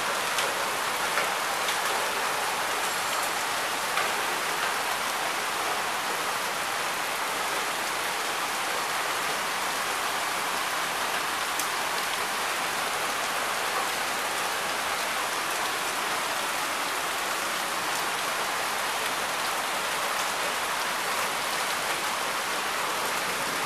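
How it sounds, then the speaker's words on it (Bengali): Steady, dense rain pours down across Dhaka city, a continuous broadband hiss with no let-up and no voices. "যাক, বৃষ্টি ধরে রাখি।"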